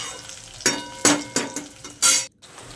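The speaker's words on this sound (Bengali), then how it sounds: "টমেটোটা দেওয়ার পর খানিক্ষণ নাড়াচাড়া করে নেব" Onion and tomato fry in a pan while being stirred, giving a few distinct scraping bursts of sizzle over a steady low frying hiss, close and moderately loud, then a sudden brief silence.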